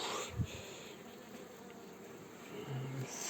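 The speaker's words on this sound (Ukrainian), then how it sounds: "Тут теж така сама, тут тут десяток бджіл" Honey bees buzz steadily around a sparsely populated hive in an apiary, a faint continuous drone with a few brief nearer passes.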